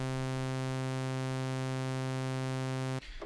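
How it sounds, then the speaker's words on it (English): Two sawtooth oscillators in an Arturia Pigments 3 analog engine, drift turned fully off and locked perfectly in sync, give a loud, steady, static buzzing tone that holds unchanged for about three seconds and then cuts off abruptly. "What you're hearing there is two sawtooths added together perfectly in sync."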